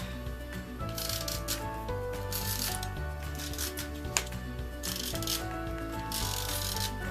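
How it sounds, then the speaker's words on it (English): A Tombow adhesive tape runner rolled across a handmade card, several short scratchy rasps and clicks over steady background music, close and fairly quiet, no talking. "I'm going to use just some of my Tombow tape here."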